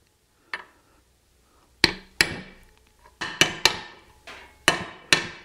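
A hammer drives a swing arm bearing into place on a CFMOTO Ibex 800T motorcycle, giving about nine sharp, ringing metallic blows in uneven rhythm, close and clear against a quiet background.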